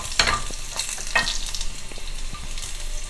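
Green and red chillies fry in hot oil for pulissery as a spoon mixes them, a loud close sizzle with brisk scraping strokes.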